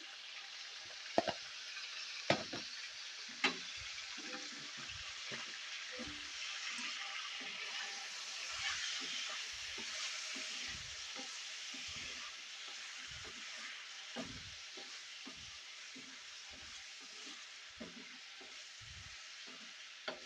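Chicken fries with salt and turmeric, a soft continuous sizzle under regular scraping thuds as a spoon stirs the pan, fairly faint and close, with no talking.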